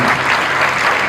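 An audience at an Indian award ceremony and talent honour event in Panipat breaks into a steady, loud wash of applause that fills the room without pause.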